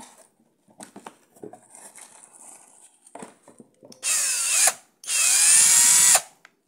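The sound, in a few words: cordless drill-driver running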